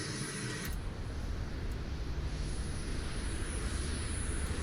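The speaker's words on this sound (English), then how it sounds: "Now that is just the onboard APU up and running." Onboard APU of a Top Mach F-22A Raptor model jet running steadily, a continuous broadband whooshing roar with a thin high whine, starting abruptly and holding loud throughout.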